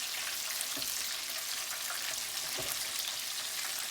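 Pork schnitzel frying in a pan gives a steady, dense sizzle of hot oil that holds through the whole stretch, with a few soft pops and no voices.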